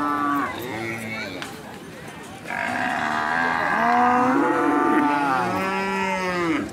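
Several cattle moo repeatedly at a livestock market on a school field ground, long loud bellows overlapping one another, one rising strongly midway and continuing to the end amid market bustle.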